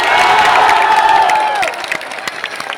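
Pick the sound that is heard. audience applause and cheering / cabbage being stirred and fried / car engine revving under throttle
audience applause and cheering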